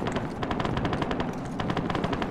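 Rapid bursts of automatic gunfire crackle continuously through a video game battle set in the Third Battle of Kharkov, dense overlapping shots with no pause and no talk.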